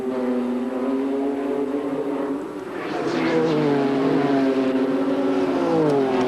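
Purpose-built Spa 001 race car at Amaroo Park in 1989, engine whining and rising in pitch as it accelerates along the track, loud and near, with a commentator speaking over it.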